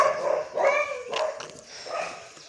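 A dog barks several times in quick succession on a walk, close and fairly loud, with short yips between the barks.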